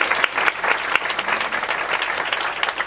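An audience at a live band event claps in a dense, continuous burst of applause that fills the room evenly for a few seconds, loud and close with no voices standing out.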